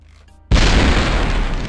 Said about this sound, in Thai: เมื่อกี้ก็คือที่มันระเบิดใหญ่เพราะว่าเมื่อกี้มันมีถังกันพาวเดอร์ด้วย